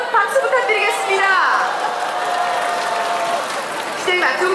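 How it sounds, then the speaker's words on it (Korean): A crowd claps at a prize draw during a Daegu citizens' sports festival, the applause moderate and steady beneath someone speaking over a PA. "여러분 박수 부탁드리겠습니다."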